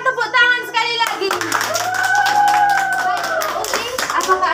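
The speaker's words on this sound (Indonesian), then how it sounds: "Kita berikan tepuk tangan sekali lagi" Applause from a crowd builds after a brief moment of voices, with a steady clatter of many hands clapping and some talk and tones over it.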